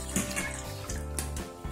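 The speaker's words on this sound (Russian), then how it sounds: "Добавляем 2 стакана теплой воды." Two glasses of warm water poured into a cauldron of meat with mushrooms, vegetables and tomato paste, a brief close splashing pour lasting under two seconds.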